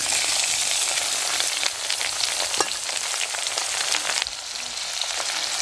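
Vegetables frying in a pan while cooking leftover Ugandan matooke give a steady, close, continuous sizzle with faint crackles and a few stirring clatters throughout.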